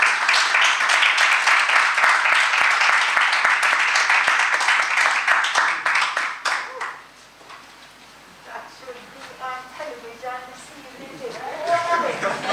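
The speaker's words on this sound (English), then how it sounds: "Let us give Dr. Edwards another round of applause" An audience at a university keynote event gives a round of dense applause for Dr. Edwards that lasts about six seconds and then dies away into murmured chatter and speech.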